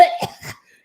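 A person imitates coughing, two short harsh vocal bursts close to the mic and fairly loud, ending in silence.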